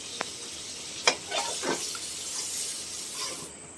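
Potatoes and pointed gourd fry in oil, a soft steady sizzle with a few clinks and stirring scrapes, near and alone.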